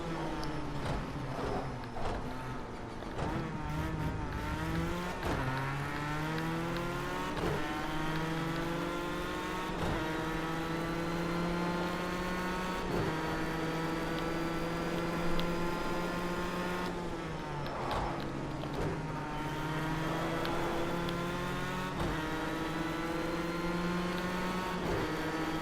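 Engine tones from F1 race cars in a Formula One racing video game, with steady rising and falling harmonic whine of engines accelerating and shifting gears throughout, loud and continuous.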